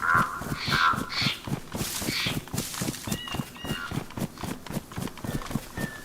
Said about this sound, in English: that bird's loud